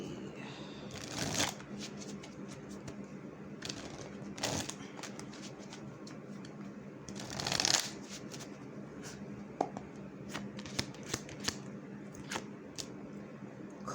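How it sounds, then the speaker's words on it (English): A Mystic Sight Oracle deck is shuffled by hand with brisk riffling bursts and soft card slides and taps between them, close and fairly quiet. "So let's get a few cards from this deck. Again, this is the Mystic Sight Oracle deck."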